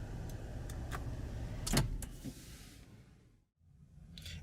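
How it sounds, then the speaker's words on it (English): 2017 Nissan Maxima Platinum with a 3.5 L V6 engine idling and shutting down, a low rumble with clicks and a whir that fades into near silence before a faint sound returns. "I'm gonna go ahead and shut down the Maxima"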